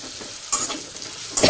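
Chopped onion sizzling and frying in a pan on low heat, a steady close hiss with a couple of brief stirring scrapes.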